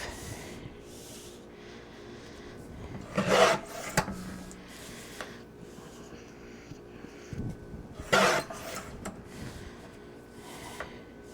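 Stacked cardstock paper is cut with a scraping, rasping slide in two loud bursts several seconds apart, separated by softer rubbing and handling noises at close range.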